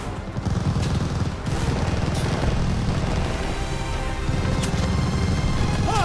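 Sustained machine-gun fire during a half-track advance in the video game Call of Duty: Vanguard, dense overlapping bursts of gunfire with scattered impacts, loud and continuous throughout.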